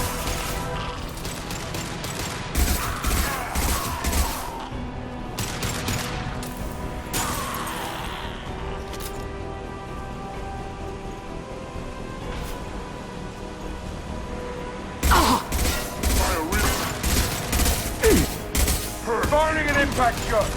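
Weapon fire in Mass Effect 2 Legendary Edition, with clusters of sharp rapid gunshot bursts separated by quieter stretches, the heaviest volleys near the start and again toward the end, mixed with game sounds and a voice talking.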